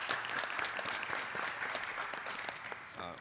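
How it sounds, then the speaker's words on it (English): A crowd at a voter-registration event with Lt. Gov. Austin Davis gives a round of applause, a full, continuous patter of many hands that holds steady before tapering near the end. "let's give them a round of applause"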